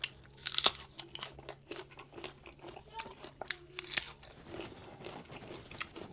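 Crunchy jujube, or winter date, bitten and chewed close up in a series of crisp, irregular crunches, loudest near the start and again around four seconds, with soft mouth noises between bites.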